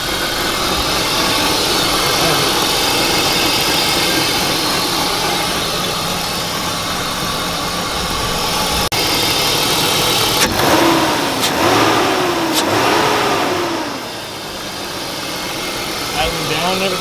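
A BMW engine runs continuously at idle with a steady mid-pitched hum, swelling slightly in a few places, while people talk nearby over it.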